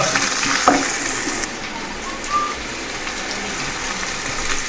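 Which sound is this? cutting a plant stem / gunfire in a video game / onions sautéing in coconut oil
onions sautéing in coconut oil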